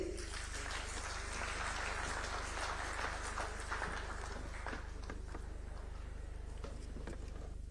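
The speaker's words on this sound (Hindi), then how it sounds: "जोरदार तालियां होनी चाहिए" Seated audience at a government ministry event in India applauds as guests light the ceremonial lamp, a dense, continuous wash of clapping heard from a distance over a steady low electrical hum, tapering slightly near the end.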